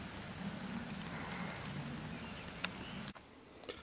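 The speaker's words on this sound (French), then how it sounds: "Il pleut tout à..." Rain falls steadily outdoors near a mountain château, a dense, even patter with scattered louder drops, close and without talk.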